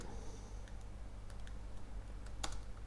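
Faint, scattered key clicks from code being typed on a computer keyboard during a Quarkus and Hibernate programming session, a few soft taps spread over three quiet seconds with a low background hum.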